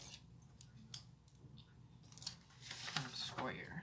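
Scissors snipping through paper to cut out squares, giving a run of short crisp cuts that grow busier and louder toward the end, close to the mic over a low steady hum.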